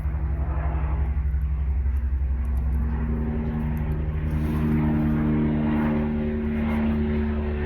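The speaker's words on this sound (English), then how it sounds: "the helicopter going over really loud" A helicopter passes overhead, a loud, steady low rumble with rotor and engine drone that swells slightly in the middle and holds throughout.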